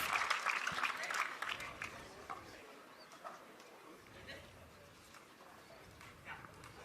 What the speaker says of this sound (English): The crowd erupts on his behalf.